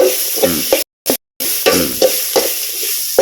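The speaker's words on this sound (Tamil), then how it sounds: "நிறைய பூண்டு வறுத்து எடுத்தாச்சு" Unpeeled garlic cloves frying in plenty of oil, a loud close crackling sizzle with repeated stirring scrapes, briefly cut by two short gaps of silence.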